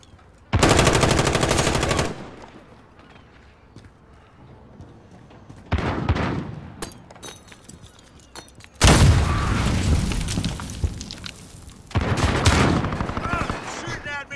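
Machine-gun and rifle fire in a Call of Duty: Modern Warfare hardcore Domination match on the Shipment map, loud bursts of several seconds at a time separated by quieter gaps, with a player talking between them.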